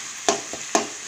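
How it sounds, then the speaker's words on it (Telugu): Masala frying in hot oil for a fish curry (pala bontha fish pulusu), a soft steady sizzle broken by two sharp stirring scrapes of a spoon against the pan, close by with no talk. "ఇలా మనం బాగా ఫ్రై చేస్తున్నాం అనుకోండి"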